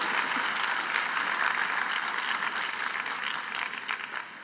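A keynote conversation crowd applauds Raina Telgemeier in a museum setting, a dense, sustained clatter of many hands that holds steady before thinning out near the end.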